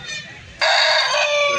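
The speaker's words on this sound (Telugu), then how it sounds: "చూడండి ఇక్కడ కనిపిస్తున్న పుంజు వచ్చేసరికి ఇంకో పుంజు" A rooster crows loudly and close at a rural country-chicken market in Anantapur, the long harmonic call bursting in suddenly after a quieter stretch of low clucking and background murmur and then holding to the end.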